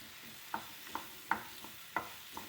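Ripe banana pieces sautéed in a pan over low heat for banana cutlets, a soft sizzle with about six distinct spatula scrapes and clinks spaced roughly half a second apart, close and fairly quiet.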